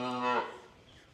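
A cow gives one harmonic, rising moo as cattle are let out through an open gate from pens during fall pregnancy checks, fading into quiet farm background.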